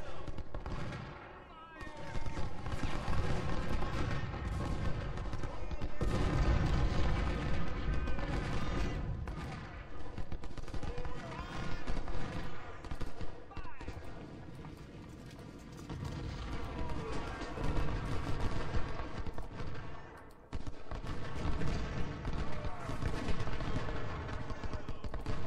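Battle din in the Civil War game Ultimate General: Civil War, with sustained rolling musket gunfire and heavy artillery booms, loud and nearly continuous for the whole stretch.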